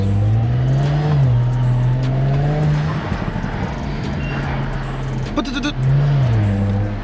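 A 2018 Audi S5 Sportback engine in sport mode hums with a low, steady rumble, rising briefly as it revs, close and loud, with talking over it.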